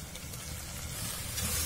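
Quartered mushrooms, about 200 grams, sautéing in a pan for mushroom biryani, making a quiet, continuous sizzling hiss that swells slightly toward the end of the short moment.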